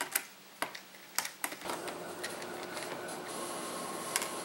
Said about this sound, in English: First, you want to take these screws out.